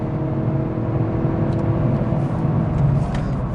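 A 2017 Lincoln MKZ with the 2.0-litre turbo engine accelerating, heard from inside as a steady, fairly subdued engine hum and road whir with no talking.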